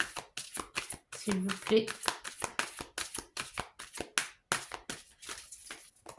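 Tarot cards are shuffled by hand in quick repeated riffles and slaps, a rhythmic run of crisp papery bursts close up, while someone speaks French briefly over them.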